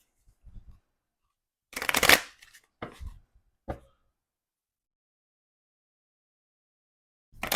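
A few brisk riffles and taps of playing cards being shuffled, in short separate bursts with quiet gaps between them.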